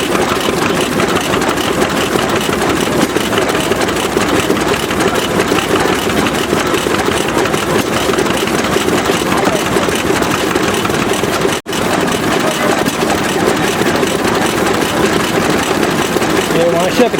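Old stationary engine at an outdoor engine show idling steadily with a rich mixture, a continuous loud chugging drone with one brief dropout, while people talk nearby.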